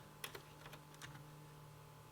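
Keys on a computer keyboard are tapped in a short, quick series of faint clicks over a low steady hum.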